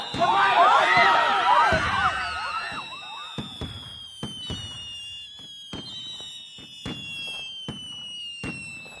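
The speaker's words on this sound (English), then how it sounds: "The fireworks! The fireworks!" Fireworks effects in a high school stage production of You Can't Take It With You go off as a loud whistling, crackling burst. Sharp bangs follow at intervals over a ringing siren-like whine, with voices shouting over them.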